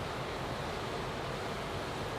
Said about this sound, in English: I know there's background noise because we literally have a waterfall over there